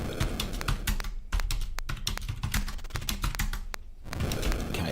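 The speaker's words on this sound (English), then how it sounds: "you just get used to typing really, really fast" Rapid typing on a computer keyboard while playing Dungeons Of Daggorath: fast, irregular clatter of close key presses, with two brief pauses.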